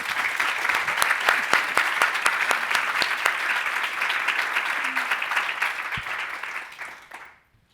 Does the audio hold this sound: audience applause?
yes